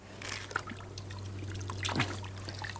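Pool chemical is tipped from a bucket into backyard pool water, making a short, close splash and trickle over a low steady hum, with one brief louder gush.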